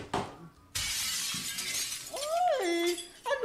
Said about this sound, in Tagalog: duha mo na ini nga pagbuog yung baso